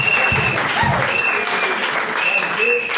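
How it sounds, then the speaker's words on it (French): A church congregation at the Branham Tabernacle in Fungurume breaks into loud, continuous applause that fills the whole stretch, with voices mixed into the clapping. "acclamons pour le Seigneur"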